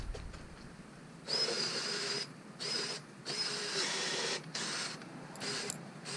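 A cordless drill on a run-down battery whirring in several short bursts, its motor whining and bogging down as it strains, with brief quieter gaps between.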